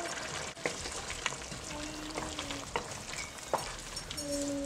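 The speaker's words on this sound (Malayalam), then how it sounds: "കറി വീണ്ടും ഒന്ന് ഇളക്കിയിട്ട് കൊടുക്കാം." Chicken curry gravy for kadai chicken being stirred in a frying pan, a soft, quiet bubbling sizzle broken by a few sharp scrapes and clinks of the spoon against the pan.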